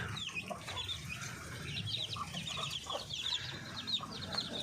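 Chickens and chicks cluck and cheep steadily on a backyard farm, a fairly faint, continuous chorus of overlapping calls.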